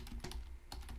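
Rapid keystrokes on a computer keyboard, a short burst of clicks followed by a brief pause and another few taps, close and fairly quiet with no voices.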